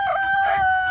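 A rooster crows once, close and clear, a short bright cock-a-doodle call with a strained, tonal quality.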